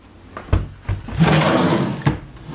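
A drawer in a hotel kitchen is pulled open, a few sharp knocks followed by a sliding rumble and a final thump, close by with no talking.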